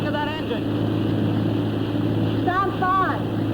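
A motorboat engine hums steadily in a low drone while people talk over it at the start and near the end.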